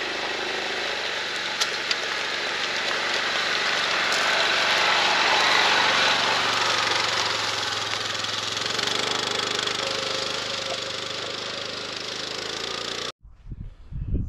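Quad ATV engine used for forestry work, running steadily and loudly nearby throughout, a continuous motor drone that cuts off abruptly near the end.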